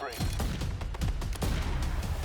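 Rapid gunfire bursts from the Black Ops 7 shooter video game, a loud, dense string of sharp shots fired in quick succession.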